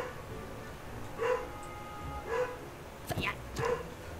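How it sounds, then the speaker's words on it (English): A dog barks in a video game haunted mansion, four short separate barks spaced about a second apart at moderate distance, with a little background noise and speech-like sounds around them. "He's barking again."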